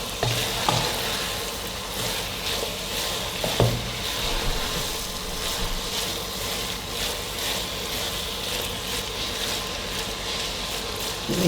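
Carrot halwa with pistachios is stirred in a pan, a soft continuous sizzle broken by repeated scraping and shuffling strokes, close by and steady throughout without talk.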